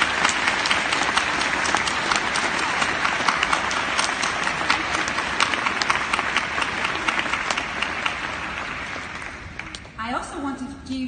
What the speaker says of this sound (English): let's give a great applause to all parents, grandparents, caregivers, and friends who are with us today